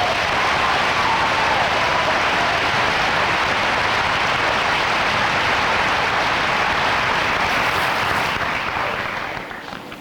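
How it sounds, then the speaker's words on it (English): Audience applause for graduates at a 2000 graduation ceremony: a large crowd clapping in a dense, continuous roar that stays loud for the whole stretch and only starts to fade at the very end. "Please give them a round of applause."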